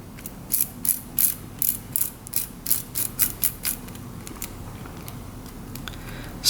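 A small mechanical fan mechanism with a fine spring ticks and clicks in a quick ratcheting rhythm of gear teeth, a dozen or so crisp clicks over a faint hum, fading toward the end.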